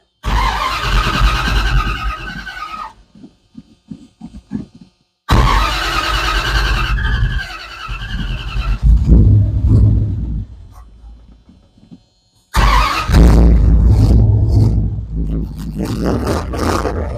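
A 1991 Ram truck, left unused for over 13 years, cranks in loud grinding bursts that stop and restart several times before the engine catches and roars, while voices talk in between.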